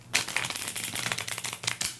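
A rapid, fluttering patter of a Magic Lantern Sibilla deck being riffle shuffled, close and fairly quiet, lasting about two seconds.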